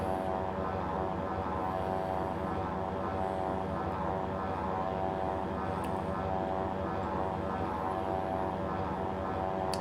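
Steady, unbroken propeller drone of a SeaRey Elite amphibian plane climbing on a scenic flight in Microsoft Flight Simulator, even in level with no voices.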